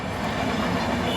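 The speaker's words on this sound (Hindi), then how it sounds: "ये जो ट्रेन गई" A train rolls past close by, producing a dense, continuous rumble with rattling wheel clatter at steady loudness across the whole moment.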